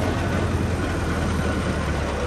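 A new 385 tractor engine runs at a steady idle, giving a continuous, fairly loud low rumble with no breaks and no voices.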